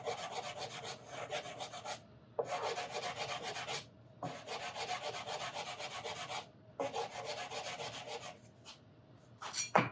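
Sandpaper on a small board rubbed along a steel-string guitar's wooden neck, four long rasping strokes of even back-and-forth scraping separated by short pauses, close and clear with no talking.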